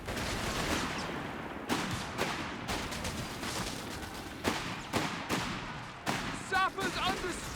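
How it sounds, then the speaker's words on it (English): Mortar shells landing on a battlefield in the World War II strategy game Company of Heroes 3, several sharp booming impacts at irregular intervals over continuous battle noise, with someone commentating throughout. "Some mortars starting to hit the field now."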